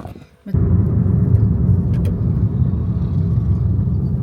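Passenger car driving to school, a steady low engine rumble and road noise heard from inside the vehicle, beginning abruptly after a short quiet moment and continuing evenly.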